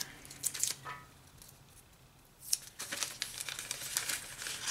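Newspaper crinkles and crumples in short bursts as it is folded and taped over the openings of a Chevy engine block, with quiet gaps between handling sounds and louder rustling toward the end.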